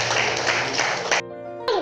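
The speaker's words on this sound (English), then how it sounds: "A round of applause for her." A gathering applauds a speaker with a burst of dense clapping that cuts off abruptly, followed by a brief tonal hum.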